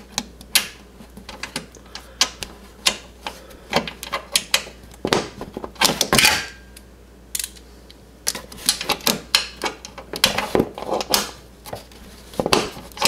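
Sharp metallic clicks and clunks from a 12mm socket wrench working a hard-to-reach bolt loose on a Yamaha YXZ1000R, coming in irregular bursts of ratcheting and knocks, close and fairly loud with no talking.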